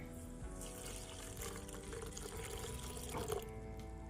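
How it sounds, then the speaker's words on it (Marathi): Faint, low-level trickle of water being poured onto roasted dried shrimp in a pan, with a slightly louder splash near the end. "त्यामध्ये आता मी पाणी टाकते"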